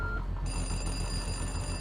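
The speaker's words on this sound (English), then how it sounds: "Pick up the phone." A telephone rings steadily in a video game set at a cozy station, a continuous electronic bell tone filling the short span at moderate volume with no talk.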